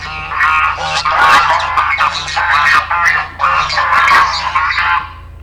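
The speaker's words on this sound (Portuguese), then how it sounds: "lembra que eu falei do grasnar, do ganso?" A goose honks loudly and close in a rapid series of harsh, nasal calls that run for several seconds with short breaks. The calls are played alongside a cough for comparison.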